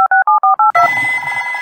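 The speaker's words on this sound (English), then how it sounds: "Perhaps it's time to phone Grandpa Pig for help" A telephone number is dialed in a Peppa Pig audiobook: six quick, evenly spaced keypad tones, followed by a steady dial or ringing tone.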